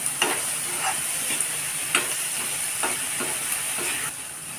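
Paneer and onion masala fries in a pan for a bun filling, a steady sizzle with a high steam hiss running throughout, broken by several scraping stirs of the spoon at irregular intervals; no talking.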